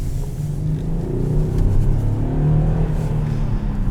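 A 2018 Ford Taurus SEL accelerating, heard from inside as a low, steady engine rumble that swells slightly, moderately loud.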